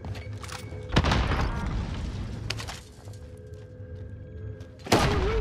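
A frag grenade going off in a shooter video game, a booming blast followed by a rumbling tail amid ongoing game noise, with another sharp hit near the end and no talk.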